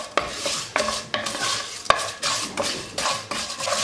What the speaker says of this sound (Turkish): Şehriyeler rengi değişene kadar kavuracağım.